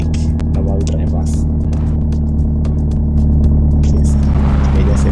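A car in the Kasi Lifestyle 3D video game drives along with a steady, loud engine drone and low rumble that swells slightly near the end, while someone talks over it throughout.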